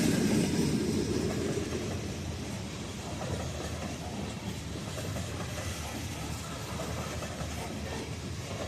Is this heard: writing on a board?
no